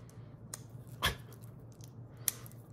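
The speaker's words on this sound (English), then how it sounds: "Got a little pair of scissors here." Small scissors cutting open a 1999 Pokémon Blackout theme deck pack: a couple of faint, quick snips with a soft crinkle, close up in a quiet room.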